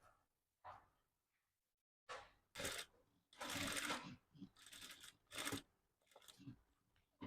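A sewing machine stitches the lining of a blouse in several short, uneven bursts with pauses in between, heard faint and close with no talk.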